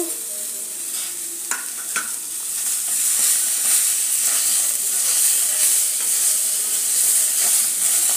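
Sliced tomatoes go into a hot pan with an inch of fresh ginger for restaurant-style paneer, then a steady, close frying sizzle follows, growing louder and denser after a few brief clinks of stirring.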